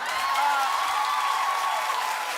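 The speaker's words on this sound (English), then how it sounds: "Stop with the clapping, I'm gonna lose my train of thought." Studio audience applause, a dense, even wash of many hands clapping that holds steady throughout, moderately loud and slightly distant.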